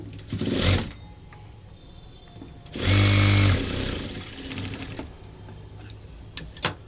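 An electric sewing machine stitches a four-tuck blouse in size 32, running in two short, loud whirring bursts separated by quiet handling of the fabric, with a few light clicks at the end.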